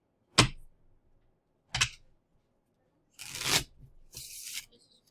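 A deck of playing cards being shuffled in a classroom, heard as four short crisp riffling bursts separated by quiet gaps, the last two longer and denser.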